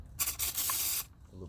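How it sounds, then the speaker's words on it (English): Meguiar's wheel cleaner sprayed onto a brush for a Honda Accord wheel, a couple of quick, close, bright hissing spritzes, the second held for almost a second. "Always spray a little on the brush."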